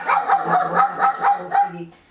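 Several dogs bark repeatedly in a home animal shelter inside an apartment building, a fairly loud, close run of about eight sharp barks at a steady, quick rhythm, fading at the end.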